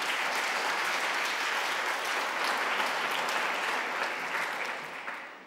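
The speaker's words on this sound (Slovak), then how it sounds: "veľký potlesk za to, že ste takto zaskočili" Sustained audience applause at a business awards ceremony, the EY Entrepreneur of the Year 2024 results announcement, a dense steady clatter of many hands filling the whole stretch and tapering slightly at the end.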